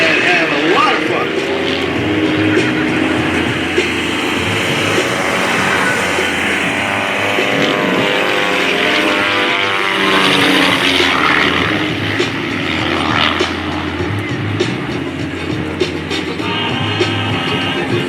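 An aerobatic plane flies overhead at the 2025 NAS Oceana Air Show in Virginia, giving a steady, loud engine drone that persists throughout while an announcer talks over it.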